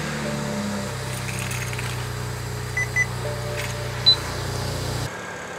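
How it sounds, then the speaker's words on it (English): A BMW N54 engine idles steadily after its ECU is reinstalled, with a low, even hum that carries on for about five seconds before cutting off, joined by a few faint beeps and clinks. "ECU is reinstalled. Let's give it a start and see if those transistors all work."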